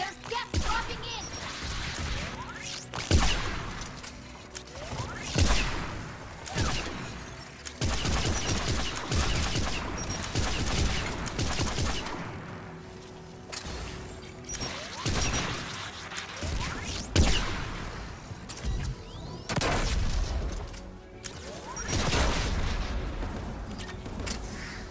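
Heavy anti-aircraft gunfire in the Mass Effect 3 video game, with bursts of booming shots and crashing impacts repeating across a loud, dense battle scene, mixed with other combat noise.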